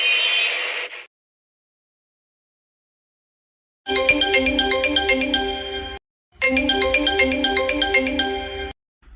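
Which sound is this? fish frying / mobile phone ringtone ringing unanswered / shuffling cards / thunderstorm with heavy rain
mobile phone ringtone ringing unanswered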